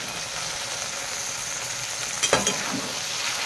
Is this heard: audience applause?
no